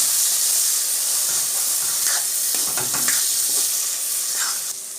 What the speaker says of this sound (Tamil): இப்போ நம்ம வந்து தக்காளி பச்சை வாசனை போகிற வரை நல்லா வதங்க விட்டுடலாம்